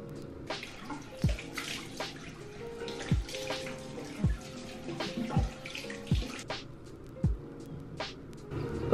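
Running tap water splashing in a bathroom sink during a nighttime face wash, a steady close flow broken by irregular splashes and hand movements in the water.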